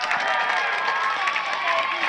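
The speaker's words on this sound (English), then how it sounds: "you can hear the crowd" A football stadium crowd roaring and cheering during a Faulkner vs. Bluefield college game, a steady dense wall of noise with a voice talking over it.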